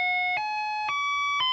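Attract-mode sound from the sound board of a Trik Trak Playmobil trains arcade game: steady electronic tones that step upward in pitch in three distinct jumps, a synthetic siren-like chime, close and fairly clear with no talking.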